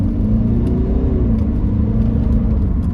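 A car engine runs at half throttle with a steady, loud rumbling drone and a faint whine rising through it, close by and without talk.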